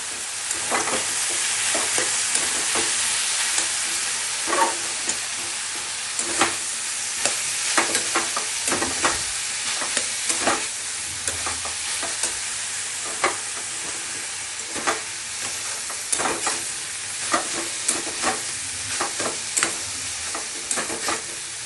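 Brinjal and masoor dal frying in a pan with cumin and chili powder, giving a steady close sizzle over the whole stretch, broken by repeated scraping stirs at an irregular pace, with no voices.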